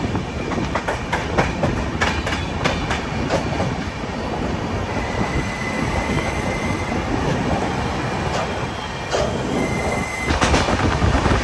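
A passenger train runs with a steady rumble and rhythmic wheel clatter, heard from inside a second-sitting 2S compartment on the Vizag to Araku line, with occasional squeals and clicks throughout.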